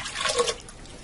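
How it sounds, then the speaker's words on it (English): Water is poured into a pressure cooker pot holding a pork loin for stew, a steady splashing gush that swells midway and then eases to a thinner trickle, close by, with no talk. "I'm going to add some water to this. I'm going to add in 6 cups."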